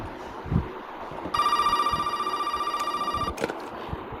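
An old-style telephone bell rings in a steady rapid trill for about two seconds in the video game Resident Evil, loud and close over quiet ambient noise and footsteps.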